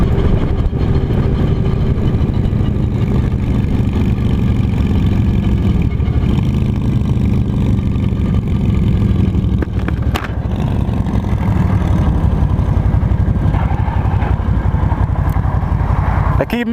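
A cruiser motorcycle engine revs sharply after a missed shift into second gear, a loud sustained roar with wind rush over continuous engine drone, and a rider talking over it.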